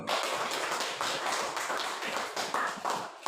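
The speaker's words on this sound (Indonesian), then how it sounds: "Oke, tepuk tangan dulu." A university class claps on cue, a brisk, dense round of hand claps with slight surges, fairly loud and steady for about three seconds, without speech.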